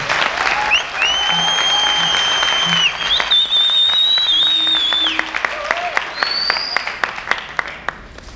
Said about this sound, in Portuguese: Gostaria de pedir uma salva de palmas a todos os mestres.